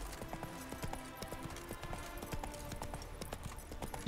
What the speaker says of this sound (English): Why is the horse not galloping?